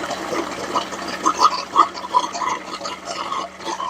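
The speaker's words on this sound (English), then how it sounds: "I'll open up the valve and let it completely drain out" Water draining out of a tub through a fully opened valve, close gurgling and bubbling with irregular glugs and splashes over a few seconds.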